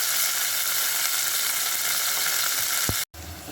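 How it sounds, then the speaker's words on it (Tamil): Ground masala paste sautéing in a pan for neem flower rasam, a steady dense sizzle heard up close with a brief knock near the end before a short cut in the sound. "ஸோ நம்ம போட்டிருக்கிற மசாலா நல்லா வதக்கிக்கோங்க."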